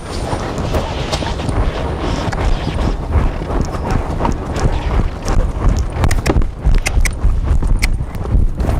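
Hoofbeats of a Morgan mare moving around a riding arena under saddle, an uneven clip-clop of repeated close hoof strikes over a steady background rumble. No talking.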